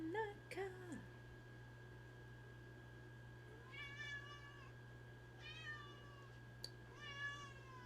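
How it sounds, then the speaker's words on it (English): A pet cat yowls and meows repeatedly in a room, drawn-out rising cries in several bursts over a steady low electrical hum, fairly faint and a little distant. "my cat is just fucking screaming"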